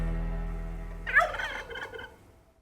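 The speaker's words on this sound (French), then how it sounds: "Et les dindons." Turkeys in a Polish village let out one quick burst of gobbling, fairly close, over a low steady background hum that fades out.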